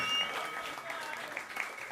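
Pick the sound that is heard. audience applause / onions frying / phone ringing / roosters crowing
audience applause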